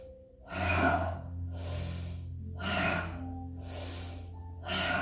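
Deep, forceful yoga breaths, several loud airy inhales and exhales in an uneven rhythm, close to the mic, with no talking between them.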